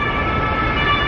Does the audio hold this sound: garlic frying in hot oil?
no